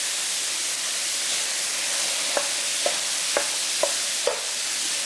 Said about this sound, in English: they only need to saute for a couple minutes